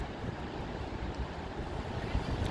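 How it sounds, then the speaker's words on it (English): Ocean waves rolling in on a sandy beach as the tide comes in, churning up sand, giving a steady, loud wash of surf and wind with no voices. "There's a lot of sand being churned up in the waves"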